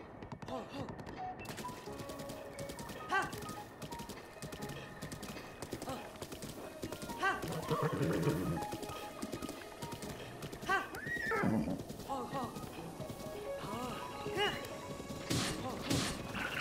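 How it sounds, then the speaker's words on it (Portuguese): A horse in Zelda: Breath of the Wild neighs and clip-clops along steadily, with whinnies rising now and then over the hoofbeats and some thuds and clattering game sounds; no one speaks. "respeito o cavalo do Geno. Calma, cavalo, meu Deus"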